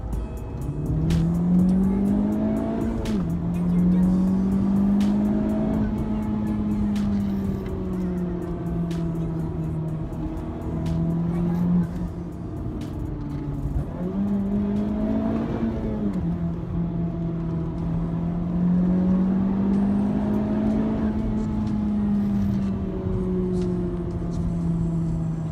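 A Honda Civic FK8 Type R driven hard in R mode through corners, its engine repeatedly revving up and easing off in long rising and falling sweeps, heard loudly from inside the cabin with little talk.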